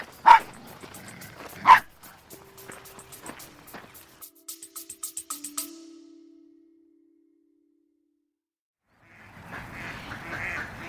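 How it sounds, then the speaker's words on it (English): Ducks heading in to roost for the evening at a farm give a quick run of quacks, after a couple of sharp dog barks. A brief silence follows, then soft, muffled rustling noise. "The ducks at High Ash Farm going in to roost for an evening."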